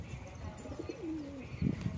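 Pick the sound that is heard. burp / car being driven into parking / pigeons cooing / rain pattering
pigeons cooing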